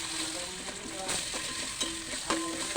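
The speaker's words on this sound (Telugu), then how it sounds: "పచ్చిమిర్చి అండ్ 1 టేబుల్ స్పూన్ అల్లం వెల్లుల్లి పేస్ట్ వేసుకుని బాగా ఫ్రై చేసుకోవాలి." Green chilies and ginger-garlic paste fry in a pan with a soft, continuous sizzle, broken by a few light stirring scrapes, close by and fairly quiet.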